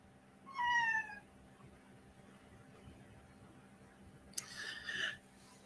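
Domestic cat meowing indoors, two distinct meows: a clear, fairly loud cry near the start and a second, rougher meow about four seconds later, with quiet room tone in between and no talking.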